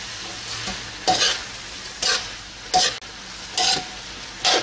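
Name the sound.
stir-frying vegetables for pancit bihon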